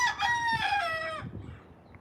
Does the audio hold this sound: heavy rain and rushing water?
no